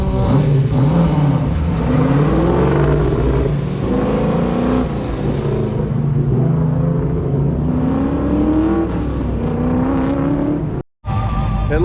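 A Chevrolet Nova launches hard off an autocross start line, its engine revving loud and rising through the gears with a steady roar, close and continuous before cutting off abruptly near the end.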